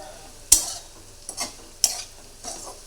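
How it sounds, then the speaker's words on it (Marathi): Sabudana khichdi is stirred and sautéed in a pan, with two sharp scrapes of a spoon against the pan and a soft sizzle between them, close by, with no one speaking. "बघा चांगलं परतायचं"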